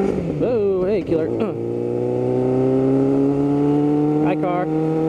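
A car engine hums steadily as a vehicle passes close by, a sustained tone holding for several seconds, with someone speaking briefly before and after it.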